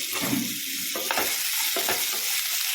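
Tomato and garlic fry together in a pan for North Karnataka style brinjal curry, giving a steady, close sizzle with scraping stir strokes throughout.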